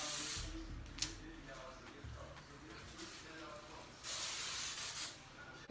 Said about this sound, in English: And then I'm gonna go over it all with some hairspray.